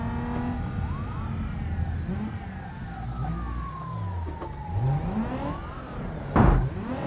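A Subaru police car siren in a driving video game wails with rising and falling sweeps over the rumble of a car engine, followed by a sharp thump near the end.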